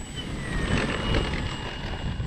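An E-flite CZ T-28 RC airplane's electric motor gives a continuous whirring drone with a faint high whine, heard fairly close for the whole short stretch.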